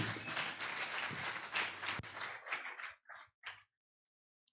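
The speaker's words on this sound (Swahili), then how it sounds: "Pigia Bwana Yesu makofi." A church congregation claps hands for Jesus, a dense wash of applause that thins into a few scattered claps and stops, with no talking.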